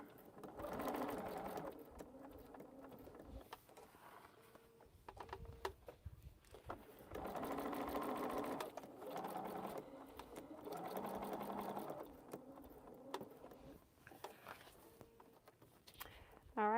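A sewing machine stitches a quilt, running in several bursts of a few seconds each with short stops between them, while a person talks over it at close range.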